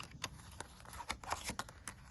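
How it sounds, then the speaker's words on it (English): Playing cards are shuffled in a few quick riffling bursts, close and fairly quiet. "And I'm going to shuffle, shuffle, shuffle,"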